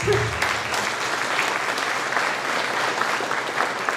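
Applause from a school band concert audience for students, a steady dense wash of clapping heard close and loud throughout, with no talking over it.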